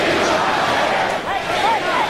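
A crowd of more than 12,000 roars at a heavyweight boxing arena during a fight, a dense, loud wash of cheering and shouting.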